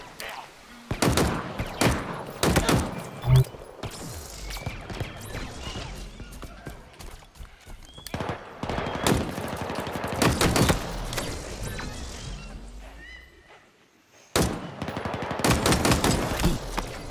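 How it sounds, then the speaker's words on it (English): Bursts of weapon fire in the Halo Infinite campaign, sharp loud volleys and rapid shots scattered across the clip with quieter stretches between, and a brief near-silent gap before a final barrage. "What the hell is shooting me?"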